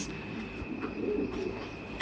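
Fancy pigeons at a farm give a low, short cooing murmur over steady background hum, soft and fairly close.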